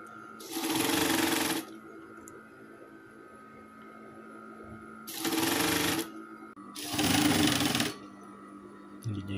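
Sewing machine stitching a striped gamis vest, running in three steady bursts of a second or so each, separated by quiet pauses with a faint background hum.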